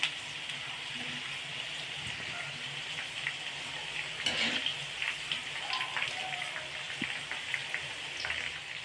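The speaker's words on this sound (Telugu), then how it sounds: "ఇప్పుడు బెండకాయ ముక్కలు వేసుకొని మనం డీప్ ఫ్రై చేసుకున్నాము" Okra pieces deep fry in oil with a constant, moderate hissing sizzle that runs the whole time. A faint voice is heard now and then in the background.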